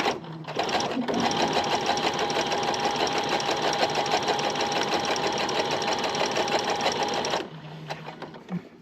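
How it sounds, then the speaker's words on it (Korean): A sewing machine runs continuously for about seven seconds, stitching a straight seam on a hanbok collar with a fast, even mechanical whir, then stops and leaves a quiet pause. "노루발 내리시고 다시 직진으로 가겠습니다"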